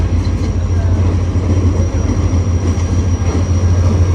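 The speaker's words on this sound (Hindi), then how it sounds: "बिल्कुल बराबर में आ रही है पेशावर और कराची दरमियान चलने वाली" The 48 Down Rehman Baba Express, running between Peshawar and Karachi, pulls in on the next track, heard from inside a stopped Green Line train as a loud, steady deep rumble of passing carriages with faint wheel squeal.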